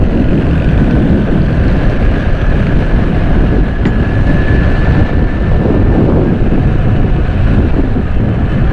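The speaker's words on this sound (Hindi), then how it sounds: "बहुत तेज़ हवाएं चल रही हैं भाई यहाँ पर।" Strong wind buffets the microphone along a Karachi road, a loud, continuous low roar without a break, with a thin whine briefly rising in the middle.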